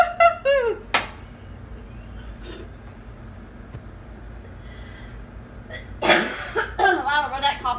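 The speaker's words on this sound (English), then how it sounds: "I don't know where that cough came from." A person coughs a couple of times in a kitchen setting after dust was stirred up, with brief sharp bursts separated by quiet, and some voice sounds around them.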